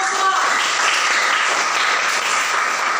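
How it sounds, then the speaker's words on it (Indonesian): Classroom applause for a student group, a steady dense patter of many hands clapping at once, filling the room evenly for a few seconds with faint voices mixed in. "tepuk tangan buat kelompok 2"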